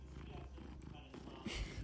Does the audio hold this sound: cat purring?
yes